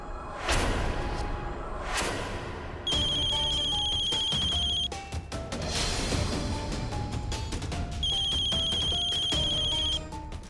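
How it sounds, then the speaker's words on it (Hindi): A telephone rings in a domestic drama scene, its electronic trilling tone sounding in two bursts amid background music and whooshes. "फोन आल बा, नागेश भैया के फोन, तोहरा खातिर फोन के लिए बात करो।"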